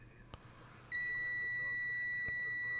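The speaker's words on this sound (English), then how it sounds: "So on to continuity. Nice and responsive bleep" Steady electronic beep from a ZOYI ZT-QS7 clamp meter in continuity mode, starting abruptly about a second in and holding continuously to the end, clear and close over a quiet room with a couple of faint clicks before it.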